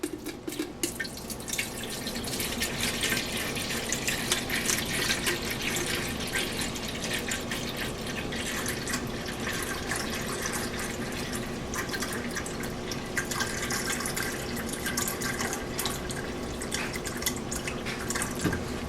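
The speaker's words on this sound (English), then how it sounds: "So I've got my jug of water here" Water poured from a jug steadily fills a container for iced tea, a continuous close splashing and trickling stream that runs unbroken for the whole stretch with no talk.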